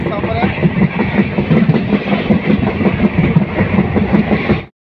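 Riding inside a moving passenger train from Samaguri to Guwahati in Assam, there is a loud, continuous rhythmic rumble and clatter of wheels on track that cuts off abruptly at the end.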